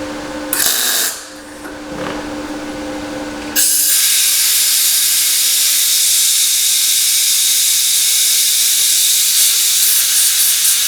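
A compressed air line blasts a loud, steady hiss onto a freshly welded Ford Escort scuttle repair panel. It starts after a few short bursts and holds continuously to the end, with no talk.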